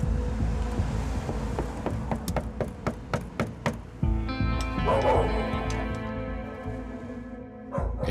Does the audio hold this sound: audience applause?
no